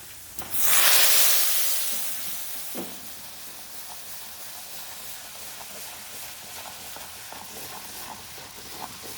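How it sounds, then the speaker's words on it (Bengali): Cumin, garlic and onion hit hot oil for a dal tempering (bagar): a loud burst of sizzling that slowly settles into a steady, softer frying hiss, with a few light scrapes and ticks along the way. "জিরা দিয়ে দিলাম বাগারে আর রসুন দিয়ে দিলাম পেঁয়াজ দিয়ে দিলাম বাগার চলে আসছে"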